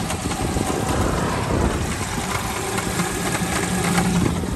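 A 1997 Daewoo Tico with a 0.8-litre engine and manual gearbox idles up close, a steady mid-pitched mechanical hum with constant vibration and no talking.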